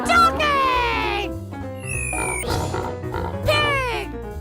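A voice imitates a pig in a short run of oinks and grunts amid other playful animal-sound imitations, loud and close, with bright sliding tones layered over a steady musical backing.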